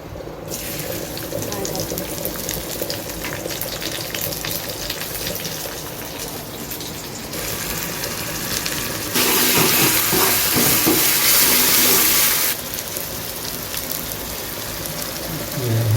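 Onion and curry leaves sizzle in hot oil for tempering a Konkani chicken vade meal, a steady hissing crackle with a louder burst partway through, under someone talking.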